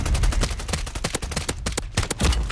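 Gunfire cracks rapidly in the video game Call of Duty Warzone 3 on the Urzikstan map, a dense run of loud, close shots with short gaps between bursts and no talking.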